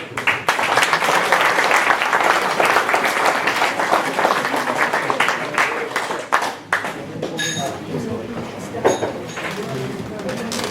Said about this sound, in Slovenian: Pa še en aplavz za vse.